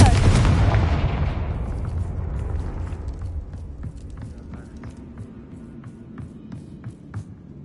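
A Confringo blasting spell explodes in Hogwarts Legacy, a loud burst at the start whose rumbling boom decays over several seconds, followed by faint scattered debris and movement sounds.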